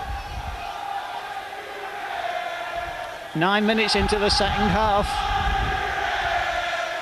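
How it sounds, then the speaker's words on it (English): At a 2003 Hull KR versus Salford City Reds Challenge Cup rugby league match, a steady stadium crowd roars and briefly swells into a chant, under a commentator's voice. "the Robins crowd really getting behind their team now"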